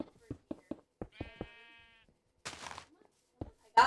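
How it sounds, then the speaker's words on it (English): Sheep in the Minecraft video game give a short electronic bleat among a few quick clicks and game sounds, with a brief noisy burst and no speech. "There's a lovely bunch of sheep over here."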